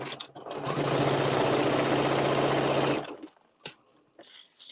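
A sewing machine stitches steadily along a traced line on a Luxe Cuddle Fair Isle wrap, running loud and close for about three seconds before stopping, followed by a few faint clicks and handling noises.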